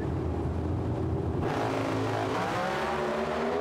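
Drag racing cars launching side by side from the line at the 2015 FIA Euro Finals in England: a loud, steady engine roar that suddenly swells into a harsher, broader blast partway through, with no talk.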